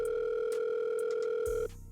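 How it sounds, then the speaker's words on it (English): A telephone line gives a steady, unbroken electronic tone that keeps sounding with nobody answering, then cuts off abruptly. "Answer the damn phone."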